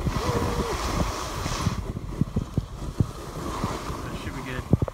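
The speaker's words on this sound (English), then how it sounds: "windy." Cold wind gusting at a ski lift, a broad rushing roar with buffeting against the microphone, steady through the clip with scattered knocks and thumps.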